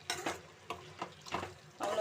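Spleen gravy spiced with pepper, cumin and coriander stirred in a pan, a spoon scraping in short repeated strokes with a soft sizzle underneath, close and moderately loud.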